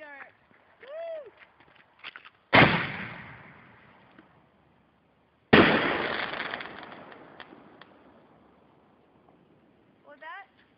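New Year's Eve fireworks in Battle Ground, WA: two loud, sharp blasts a few seconds apart, each followed by a long crackling decay, with people cheering and talking between them.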